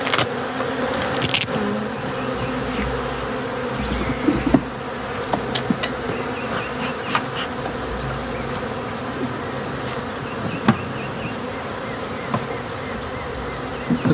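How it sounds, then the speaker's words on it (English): Honey bees buzz steadily at an open hive where frames of hatching bees are being handled, a dense continuous hum with occasional light knocks and clicks from the frames, heard up close without talk. "This is a nice frame to give Tommy because it's got hatching bees."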